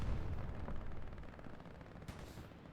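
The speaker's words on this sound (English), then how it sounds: "Bombing run also coming in." Bombing run in the video game Hell Let Loose on Omaha Beach, a dense rumbling barrage of distant explosions and crackling gunfire rolling on steadily, with a brief sharper blast near the end.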